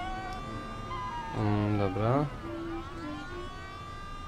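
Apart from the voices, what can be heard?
police car siren chasing in video game Mafia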